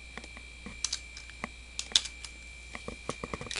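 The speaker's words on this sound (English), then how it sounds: "I'll just type my last name here" Computer keyboard keys tapped in a short irregular burst while a surname is entered, with scattered close, light clicks and one sharper keystroke near the middle, no voices.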